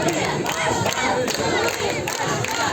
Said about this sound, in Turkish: Benden daha çok tezahürat aldınız ama haklı yere aldınız.